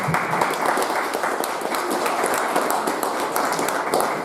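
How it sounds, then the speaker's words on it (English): A live studio audience at a county magistrate candidates' debate applauds in a steady, dense wash of clapping that holds at even loudness for the whole stretch, with no voices over it. "another round of applause for our live studio audience"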